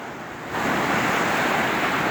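Sea waves rushing onto the shore at Samsun, Turkey, a soft wash that swells into a louder, continuous surge of surf with no voices.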